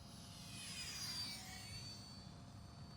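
A UMX 30mm Viper FPV model plane, freshly repaired and taped, flies gently, giving a faint, distant electric whine that swells slightly in the middle and then eases off over a low background rumble.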